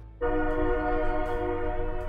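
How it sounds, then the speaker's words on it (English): A loud train horn mounted on a ship blares as a steady, sustained multi-tone chord, starting abruptly and holding for about two seconds. "Would also have a train horn on it."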